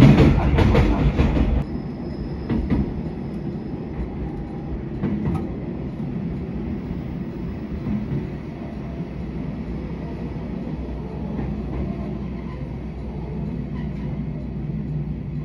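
A JR Hokkaido 731 series electric train runs with a loud burst at first, then settles into a steady low rumble with occasional wheel clicks and thumps.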